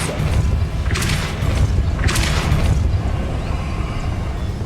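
The Depulso force spell fires twice in Hogwarts Legacy, each cast a sharp whooshing burst over a heavy low rumble of game ambience and effects, loud and close.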